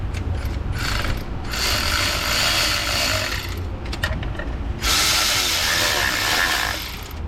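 A ratchet wrench runs bolts down on an oil pump, its close, loud clicking coming in two long bursts with a short pause between them.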